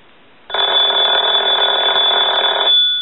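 A telephone under repair rings during a bench test, a bright electronic ring starting abruptly after a brief quiet and sounding continuously at close range until it cuts off, leaving a faint steady tone.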